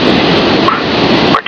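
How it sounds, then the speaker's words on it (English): Sound suppression water system flooding the launch pad before the Space Shuttle Endeavour launch, a steady, loud broadband rush of pouring water like heavy rain or a waterfall, continuous for the whole stretch with a brief dip near the end. "The sound suppression water system has been activated."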